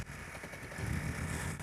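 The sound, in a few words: old police car engine cranked with a knife on the starter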